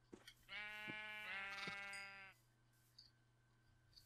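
A sheep in a video game gives one long, loud wavering bleat close up, with a few faint clicks before and after it.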